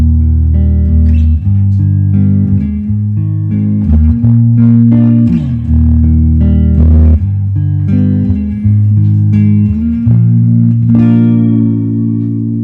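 A Squier J Mascis Jazzmaster electric guitar played through its neck pickup on the rhythm circuit, volume and tone fully up: loud, continuous strummed and picked chords with sustained notes ringing over each other, no voices.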